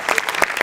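A studio audience at a Marathi comedy show breaks into a brief burst of clapping, dense and close, lasting under a second.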